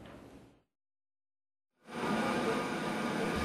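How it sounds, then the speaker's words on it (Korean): A passenger train carrying holiday travellers pulls into a station: a brief rumble fades into silence, then a loud, steady rolling roar of the arriving train takes over and holds to the end. "귀성객들을 실은 기차가 들어옵니다."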